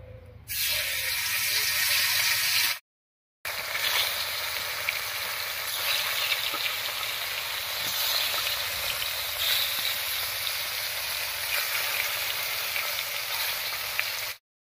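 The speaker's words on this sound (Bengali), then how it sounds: "এবার মাছগুলো হালকা করে ভেজে নিচ্ছি।" Live snakehead fish frying in hot oil give a loud, bright, continuous sizzle up close that cuts out once briefly and then carries on strongly to the end.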